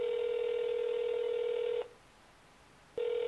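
An old-fashioned phone line drones a steady call tone that cuts off for about a second, then resumes, loud and alone.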